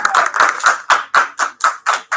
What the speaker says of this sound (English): You can clap for them to come up.